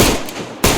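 Two sharp gunshots from the video game DayZ ring out in quick succession, loud and close, each a sudden broadband crack with a short decaying tail.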